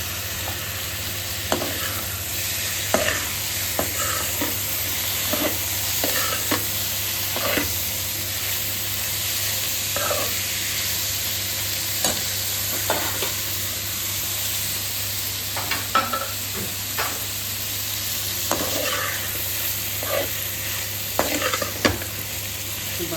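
Chili paneer stir-frying in a pan with vegetables, a steady close sizzle broken by repeated scrapes and knocks of a spoon against the pan throughout.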